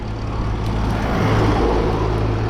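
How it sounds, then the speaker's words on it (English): A heavy tow truck rumbles past nearby, a loud, steady low drone of engine and road noise with no voices. "Not that noise, that's obviously a tow truck."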